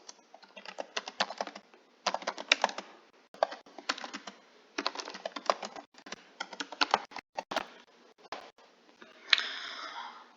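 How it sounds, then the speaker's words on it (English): Rapid clicking keystrokes come in bursts with brief pauses between, close and fairly quiet, like steady typing on a computer keyboard. "then I would type out what I want my students to be typing"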